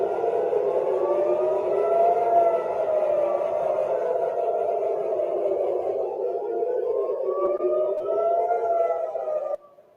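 A civil defense siren wails steadily, its tone rising and falling slowly, loud and echoing as if heard across open distance, then cutting off abruptly.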